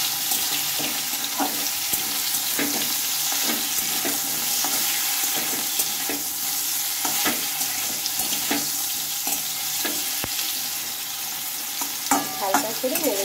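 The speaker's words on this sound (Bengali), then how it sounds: "ডাঁটাগুলো দিয়ে নিয়েছি তেলে, এবার একটু এটাকে আমি ভেজে নেব।" Drumstick stalks frying in oil in a kadai for a pickle recipe give a steady crackling sizzle, close and continuous, broken by occasional soft clinks and stirring scrapes.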